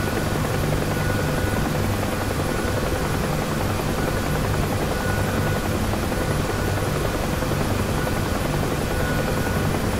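A UH-1H helicopter flies in the DCS combat flight simulator, its continuous rotor thrum and turbine whine steady and loud for the whole stretch, with no other sounds.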